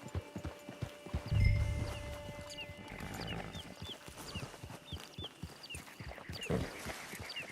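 Horse hooves clip-clop in Red Dead Redemption 2 online, a steady, fairly close walking rhythm that continues throughout, with a low rumble early on and faint bird chirps in the background.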